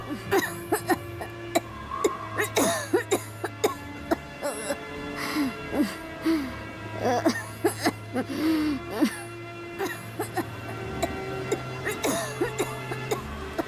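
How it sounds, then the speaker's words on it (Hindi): A sick woman lying in bed coughs badly and repeatedly in harsh, uneven bursts, some sounding wheezy and choking, over a low droning horror-story music bed. "वो बुरी तरह खांस रही थी, मानो उनकी सांस रुकने वाली हो।"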